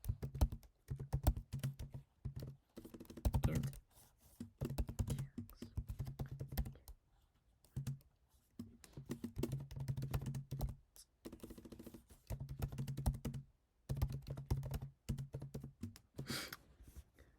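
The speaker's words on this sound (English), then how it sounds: "let me type it first" Continuous typing on a computer keyboard, close and fairly quiet, with rapid irregular key clicks in bursts separated by brief pauses.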